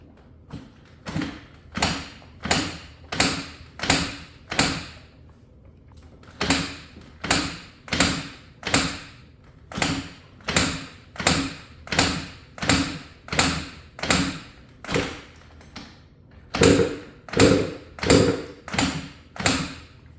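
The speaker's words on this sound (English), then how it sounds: "we're ready to give this thing the first kicks and see if she comes to life" A Banshee 350 ATV that will not fire is kicked over repeatedly, a steady run of rhythmic whooshing strokes about two per second with two brief pauses, close and loud, with no engine catching.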